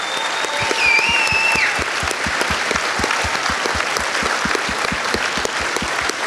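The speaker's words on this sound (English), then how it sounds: "A big round of applause for all of them." An audience at an international pro-life roundtable event gives a long, steady round of applause, with many hands clapping in an even rhythm throughout and no speech over it.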